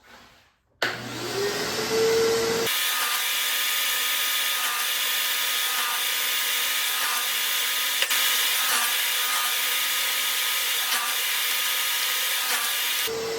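A power saw cuts the sides of a small wooden cigar box to length against a stop block. It makes a loud, steady whine that runs on without a break for about ten seconds after a short startup, with no talk.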